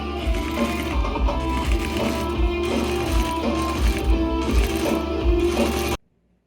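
A domestic sewing machine running a top hem on a reworked camo garment, its needle chattering in a fast steady rhythm with short pauses, close and clear, then stopping abruptly into silence.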